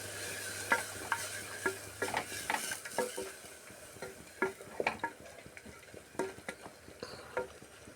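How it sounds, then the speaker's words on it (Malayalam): Soya chunks curry masala stirred in a pan, a spoon scraping and clacking in irregular strokes over a faint sizzle, close and fairly quiet with no talking. "അതിൻ്റെ പച്ചമണമൊക്കെ ഒന്ന് മാറുന്ന വരെ ഒന്ന് ഇളക്കി കൊടുക്കാം."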